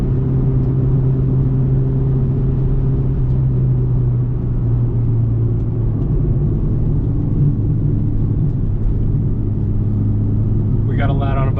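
A Mitsubishi Evo 5 drives along a winding road, giving a steady, loud engine drone with low rumble and faint road noise throughout, and no voices.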